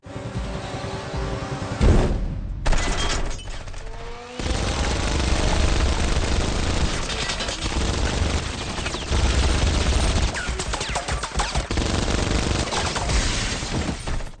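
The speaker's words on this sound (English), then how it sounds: "The best Marvel film just happens to have a minigun scene in it." A minigun fires in a film scene from Captain America: The Winter Soldier, with long, dense, roaring bursts of rapid gunfire, a short break, then sustained firing mixed with crashes and impacts.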